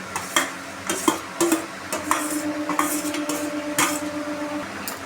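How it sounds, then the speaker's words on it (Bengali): A spatula stirs chhena and sugar in a pan while making sandesh, making rhythmic scraping strokes against the metal with soft clicks and a faint sizzle underneath. "এবার এটাকে খুন্তি দিয়ে ভালো করে আমরা নাড়িয়ে নেব"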